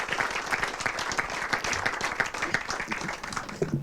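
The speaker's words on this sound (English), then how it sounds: "let's start off with a good round of applause for him" Audience applause for CB Patel at a golden jubilee celebration, a sustained, even wash of many hands clapping in a hall, moderately loud and continuous throughout.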